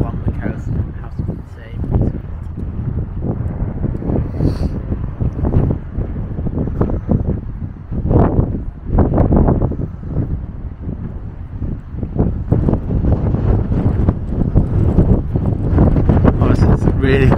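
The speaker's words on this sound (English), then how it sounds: "Windy, so I don't know if you can even hear what we're saying," Strong, gusty wind buffets the microphone, a constant low roar with surges, while people talk over it outdoors on the Wirral.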